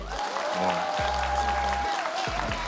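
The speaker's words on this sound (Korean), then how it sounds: "다시 한번 큰 박수 주세요." Crowd applause at an environmental talk concert, a moderate wash of clapping from the audience, with a tonal hum and low background sounds running beneath it.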